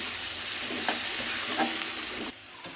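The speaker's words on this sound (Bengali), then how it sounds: "এটা ভালো করে লাল করে ভাজা হবে" Onions sizzle steadily in a hot pan as they fry, with a few soft scraping stirs partway through; no voices.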